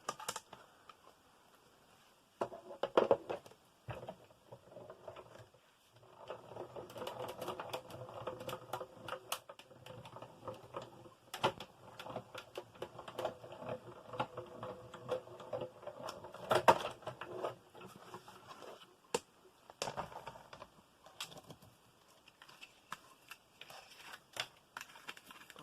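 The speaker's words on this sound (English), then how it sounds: "So I'm going to cut the outer die first." Die-cutting machine cranking a die through a scrap of pink card, a steady grinding mechanical rumble with faint clicks that runs for most of the stretch, close and moderately quiet, with short pauses between passes.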